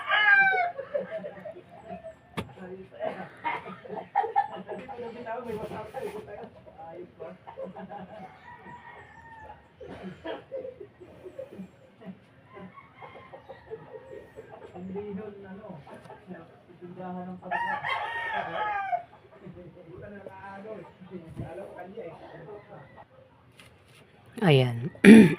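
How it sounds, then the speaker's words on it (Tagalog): Chickens cluck on and off nearby throughout, and a rooster crows loudly at the very end. "Ayan, may mga manok pa."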